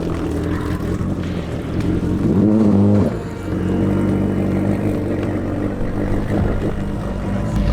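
A racing jet ski at a drag race, its engine roaring loud and close at a steady high drone that briefly surges, then settles back, heard alone.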